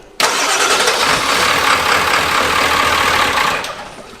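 An old, clapped-out farm truck engine catches after a brief crank and then runs loud and steady up close in winter, its rough broadband roar holding for several seconds before easing off, with no talk over it.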